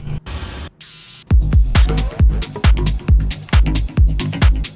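A burst of bright hissing synth noise, then punchy electronic kick drums thumping in a steady pattern with crackly noisy texture layered between hits.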